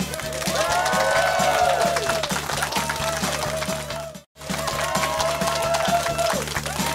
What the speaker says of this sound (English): I think your applause ran out before I was going to start